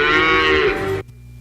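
A cow gives one long, loud, close moo that cuts off abruptly into near silence, used as a sound effect in a car dealership radio ad.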